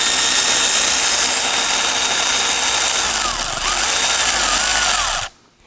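A power tool, likely an impact driver, spins a 10 mm deep socket on an extension to loosen a nut on a 2018-2024 Toyota Camry 2.5L, loud and continuous for about five seconds, then stopping abruptly.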